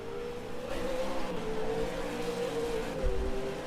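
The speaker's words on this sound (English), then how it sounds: "That's Elder doing burnouts." A V8 league race car at Winton revs hard during burnouts, a loud sustained engine roar with pitch rising and falling, close and continuous.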